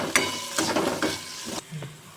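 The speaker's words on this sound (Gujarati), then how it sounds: "હવે એને હું સાતળી લઈશ ને ગોલ્ડન બ્રાઉન સુધી એને હું સાતળીશ" Chopped capsicum sautés toward golden brown in a pan for cashew curry, giving a brief burst of crackling sizzle broken by a few quick stirring scrapes, close and fairly loud.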